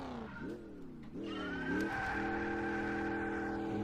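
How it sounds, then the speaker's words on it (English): A V8 race car engine in the game Gran Turismo 4 revs up through a couple of quick gear changes, then settles into a loud, steady high-pitched drone. "Admeister did such a good job on these V8 sounds"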